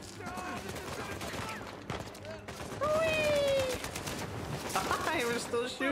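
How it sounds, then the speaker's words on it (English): Bursts of gunfire and fusillades crackle through an Uncharted 4 firefight, with sharp repeated shots, ricochet-like whistles and clattering debris, over a moderately loud game soundscape. "We're still shooting them."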